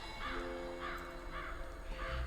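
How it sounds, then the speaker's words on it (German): Crows in the horror game Saint Kotar caw four times in a slow, evenly spaced series over a steady low ambient hum, sounding moderately distant. "Wir hören schon die Krähen."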